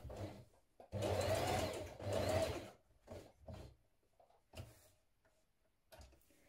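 A sewing machine top stitches a jeans pocket in bursts: two longer loud whirring runs, then several short stitching spurts separated by quiet pauses.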